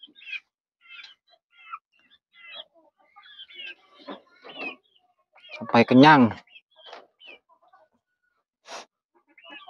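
Young Filipino chickens, three to seven months old, clucking and calling in short scattered bursts while feeding, with one louder squawk in the middle and someone talking briefly among them.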